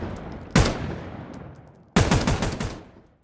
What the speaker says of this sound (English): When the blend container is called from a weapon fire event within the game, a unique gunshot is created at runtime.